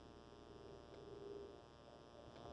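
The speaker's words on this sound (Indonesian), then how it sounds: "Langsung nyalain AC aja, yuk." A 2015 Toyota Corolla Altis V automatic idles with its air conditioning switched on, giving a faint, steady hum and low whir inside the cabin with no talk.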